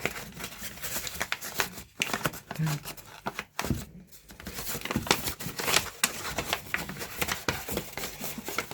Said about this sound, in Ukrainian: Розгорнемо наш пакетик.